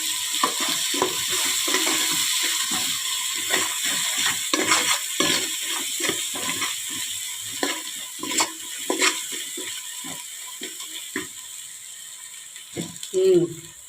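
Spice masala of ginger, garlic, cloves and dry coconut frying in oil for mutton paya, a steady sizzle broken by rapid clicking scrapes of a spoon against the pan, with a brief voice near the end.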